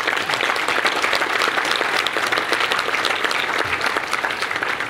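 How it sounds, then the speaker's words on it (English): A summit audience gives a round of applause for senators, a continuous crowd of hands clapping at fairly close range, steady and full throughout, with no speech heard over it. "I'd like to acknowledge them and give them a round of applause."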